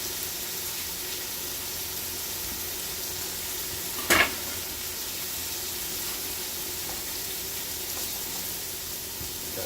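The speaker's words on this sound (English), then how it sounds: "Put a couple pads of butter in there because everything tastes good with butter." Butter sizzling and frying in a hot pan alongside skirt steak, a steady loud crackling hiss that runs throughout, with a single brief clatter near the middle.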